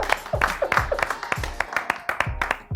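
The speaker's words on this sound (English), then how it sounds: "A round of applause for Timmy." Scattered clapping from a small crowd greeting a boxer at a ring introduction, uneven and fairly close, with a few distinct handclaps and murmuring voices in between.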